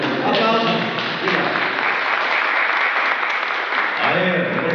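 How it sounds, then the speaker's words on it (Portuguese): Audience applause at a Brazilian televised singing tribute show, a steady broadband clatter of clapping filling the whole stretch, with a voice talking over it near the end. "Aplausos!"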